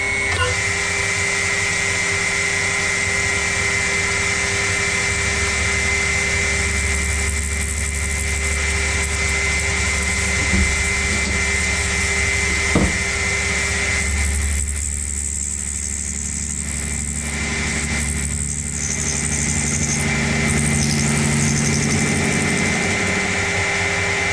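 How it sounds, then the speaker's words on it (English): Myford Super 7 lathe machining a taper, a continuous motor hum with faint tonal whine and low cutting rasp, steady with slight changes and a couple of brief clicks, no voices. "So now I'll just machine a little taper."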